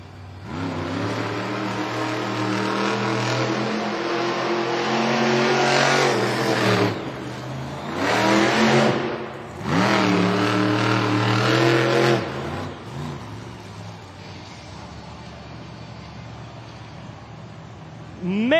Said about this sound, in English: Chris Kohler whipping around that track, putting up a time